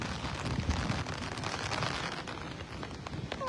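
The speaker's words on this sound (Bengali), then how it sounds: "এত বাতাস, আমাকে মনে হচ্ছে উড়িয়ে নিয়ে যাবে ছাতা নিয়ে।" Strong wind gusting in rainy weather, with a broad continuous roar and buffeting, mixed with rain pattering on an umbrella close by, no speech.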